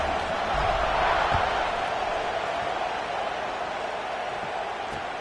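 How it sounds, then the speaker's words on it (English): A stadium crowd buzzes after a football score, a dense continuous roar of many voices, loud and steady throughout with no single speaker standing out. "this crowd is buzzing after that last score"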